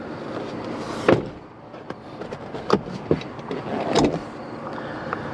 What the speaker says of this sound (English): now we're going to put the seat in place